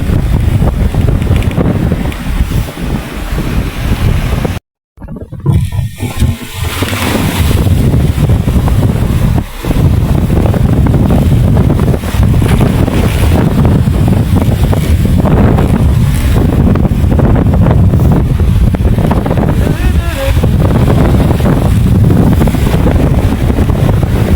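Heavy wind and rough sea waves surround a small boat during a low-pressure spell, with a loud, continuous roar of gusts and water that drops out sharply for a moment before surging back.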